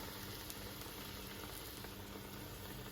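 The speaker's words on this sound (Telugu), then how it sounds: "బుజ్జి బుజ్జి వడలు వేసుకుంటున్నాను" Small vadas frying in oil over a low flame on a home stove, a steady dense sizzle and bubbling that holds evenly close up throughout, with no talking.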